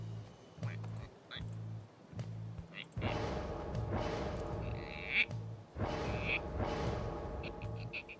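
A person imitates duck wailing, with repeated low nasal quacking honks at first, then louder, rougher drawn-out bursts in quick sequence.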